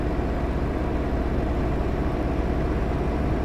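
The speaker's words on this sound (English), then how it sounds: "Oh, I love the sound of this engine." Renault T Range truck engine in Euro Truck Simulator 2, driving through Iberia, a steady, loud low rumble droning evenly throughout with no change in pitch.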